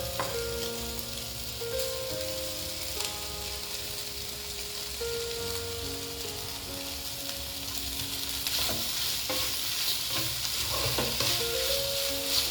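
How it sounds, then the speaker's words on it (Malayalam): Cooked, shredded chicken frying and being stirred in a pan for Kerala chicken thoran, a steady soft sizzle with occasional scraping stir sounds under quiet background music, no talking. "ഈ സമയത്ത് നമുക്കിതിലോട്ട് വേവിച്ച് പൊടിച്ച് വെച്ചേക്കുന്ന ചിക്കനും കൂടി ഇട്ട് കൊടുക്കാം."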